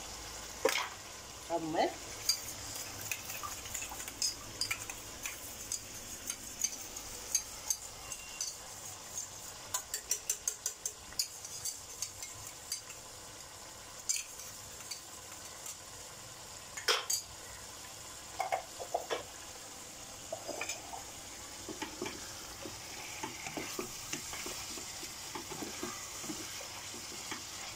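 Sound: hariyali chicken being roasted on full flame

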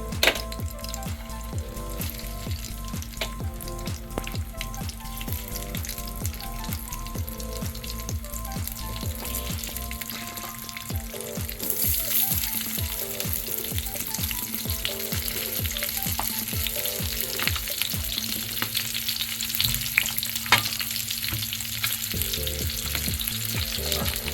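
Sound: stuffed chillies frying in a pan

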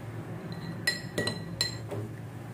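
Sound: stirring honey and apple mixture in a glass

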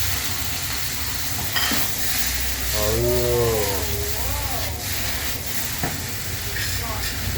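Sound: garlic sizzling in frying pan

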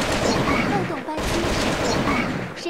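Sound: gunfire from VR video game Crisis Action

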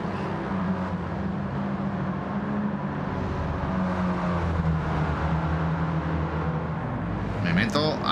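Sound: car engine accelerating in video game Gran Turismo 7

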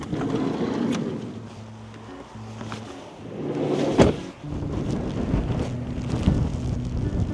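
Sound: wind

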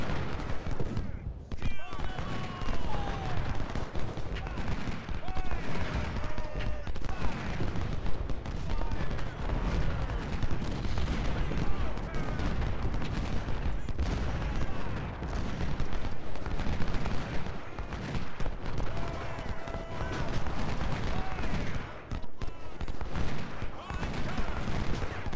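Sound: cannons and guns firing in Ultimate General: Civil War video game

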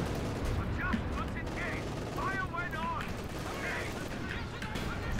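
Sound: anti-tank cannon firing in a video game

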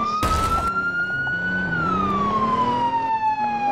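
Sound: ambulance siren in a video game

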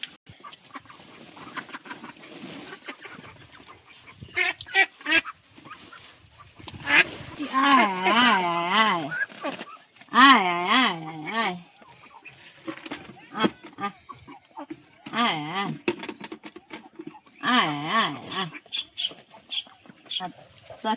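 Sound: ducks quacking

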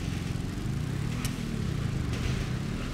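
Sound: motorcycle engine of Lester's bike in GTA V video game

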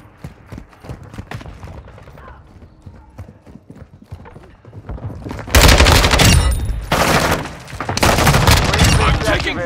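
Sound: gunfire in Call of Duty Modern Warfare 2 video game

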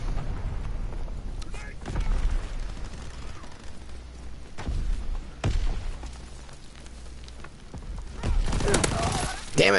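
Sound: gunfire in video game Call of Duty

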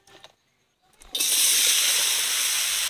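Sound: mustard oil heating in a wok

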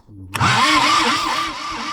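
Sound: Universal-445V tractor engine starting after long standing

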